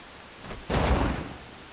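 Rain in the game Enshrouded hisses quietly until a sudden louder rushing surge, like a thunder crack or downpour burst, strikes and then fades back to the soft rainfall.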